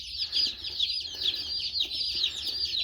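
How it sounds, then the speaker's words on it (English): Dozens of baby chicks peep continuously in a high, dense chorus, close and steady for the whole stretch, with no talking over them. "we'll just take some videos here of chicks."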